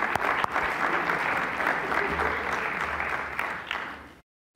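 Applause fills a city council chamber in Chicago, a steady wash of many hands clapping at moderate distance for about four seconds before cutting off abruptly.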